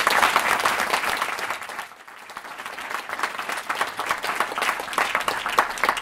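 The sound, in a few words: audience round of applause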